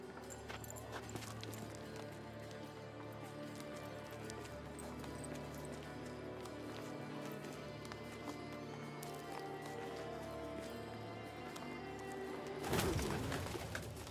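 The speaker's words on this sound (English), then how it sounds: "fucking birds" Pigeons coo in The Witcher 3, a soft repeated cooing amid a dense, steady game soundscape with clip-clop-like hooves and other bird calls, ending in a brief louder burst near the end.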